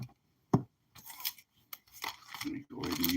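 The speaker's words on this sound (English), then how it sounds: "I'm going to use my scissors to cut these packs" Scissors snip through thick trading card packs in a few short, separate cuts with crinkling wrapper noise between them, close to the listener, under light handling sounds.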